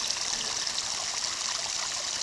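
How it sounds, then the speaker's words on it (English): A small cascade at Erskine Falls runs steadily over rocks, a soft, continuous, bright trickling and splashing heard at moderate distance with no voices. "This lovely little S bend of the water here, from this little cascade here down, flowing across these rocks"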